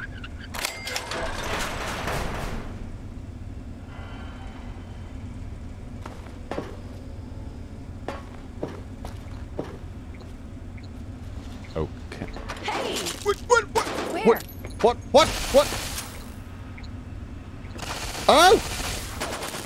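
Gunfire in the Fallout 3 video game, scattered single shots at first, then bursts of rapid shots and crashing impacts late on, heard under a player talking.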